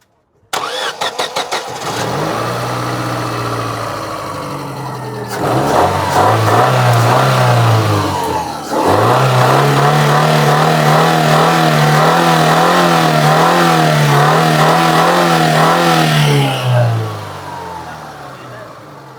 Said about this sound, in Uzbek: Motor ochilmasa bunday zvuk ham bermaydi.